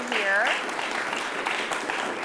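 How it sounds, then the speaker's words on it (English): Audience at a Kansas civic discussion event claps for a guest, moderate applause with a voice talking over it near the start and continuing through. "Please give Wendy a round of applause"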